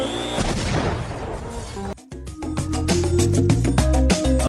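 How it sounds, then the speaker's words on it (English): Sharp, booming bursts go off in rapid succession, loud and close, like a string of small explosions, followed by a steadier roaring rumble, with no talk over it. The booms are framed as coming from a vacuum cleaner being switched on over a rug. "did you catch that explosion sound? It made the vacuum sound like a mini bomb just went off."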